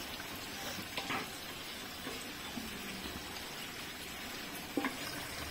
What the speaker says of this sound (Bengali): কি হচ্ছে, ভেটকি মাছ রান্না করছে